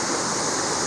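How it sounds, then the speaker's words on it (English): Small creek flowing along the Ozark Trail's Courtois Section: a close, steady rush of water with no voices, even and unbroken for the whole short moment. "there's a little creek that goes right along here and then comes out right there"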